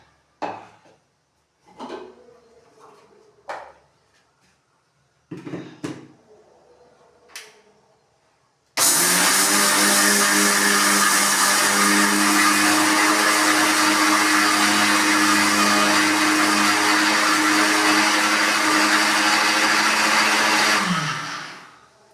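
A kitchen mixer grinder grinds roasted pearl millet and finger millet. A few sharp knocks and clatters of handling come first, then the motor roars loud and steady up close for about twelve seconds before cutting off abruptly.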